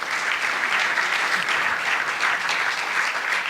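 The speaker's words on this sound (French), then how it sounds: "donc on peut applaudir" A conference audience applauds after a round-table discussion on economics, a dense, steady clapping that fills the whole stretch at even loudness.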